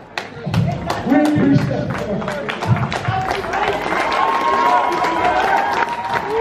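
A wrestling crowd in an arena claps and cheers for a retiring wrestler, bursts of loud applause and shouts filling the room while someone speaks over them.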